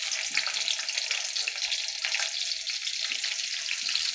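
Chili and chopped onion frying in oil in a wok, an even, loud hiss of sizzling oil close by, steady throughout with slight crackling fluctuations.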